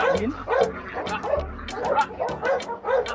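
Seven-week-old pit bull puppies give repeated yips, barks and whimpers in a quick, uneven rhythm, close and fairly loud.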